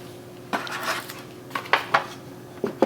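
Two onions dropped into a metal roasting pan for a smoked holiday roast, giving a few light clattering knocks and scrapes against the pan, close and fairly quiet with no talking.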